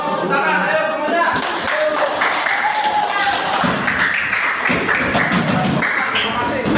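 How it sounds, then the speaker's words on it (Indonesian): An audience claps for group 1, a busy spread of hand claps and taps mixed with people talking and cheering close by throughout. "Kita berikan aplaus tepuk tangan, ayo semuanya."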